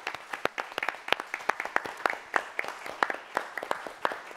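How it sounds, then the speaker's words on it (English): Applause at a university event, thinner and more separated, with a small group clapping in distinct, fairly regular strikes that carry on steadily for several seconds at moderate level. "So I'd like to ask everybody to join me in a round of applause and thanks for this."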